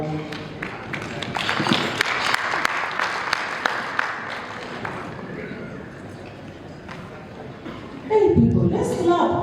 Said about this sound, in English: Hey people, let's clap.